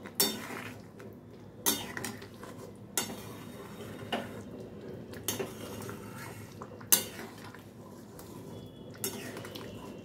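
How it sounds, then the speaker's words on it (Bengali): Ghee being stirred into a potato and paneer dish in a pot, a series of spaced metal spoon clinks and scrapes against the pot over a faint background, close, with no voice. "ঘিটাকে ভালো করে মিশিয়ে নেব।"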